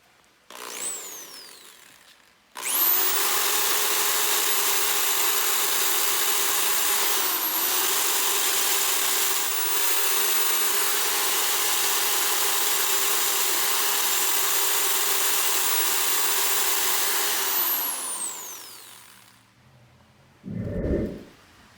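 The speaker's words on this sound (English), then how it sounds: "This is just a rough wire brush on a drill." A drill spins a rough wire brush against a brass bar, starting abruptly and holding a loud, steady whirring grind for about fifteen seconds before winding down, with brief handling noises at either end.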